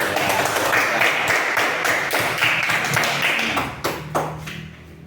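A classroom of students claps together, with sharp irregular hand claps that thin out and fade toward the end, leaving a few scattered claps.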